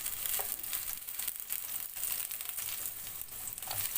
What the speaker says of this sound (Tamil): இப்போ இதை இந்த எண்ணெயில் நல்லா வதக்கிக்கலாம்.